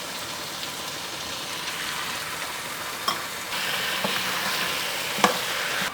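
Prawns sauté with onions and chilli powder in a pan, giving a soft, continuous sizzle close by, broken by a few light clicks from stirring.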